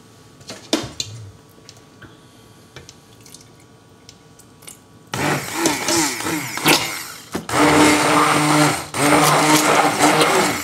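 A blender whirring through chestnut soup to make a smooth velouté starts up halfway, loud and steady with a brief stop, after quieter kitchen clinks and drips.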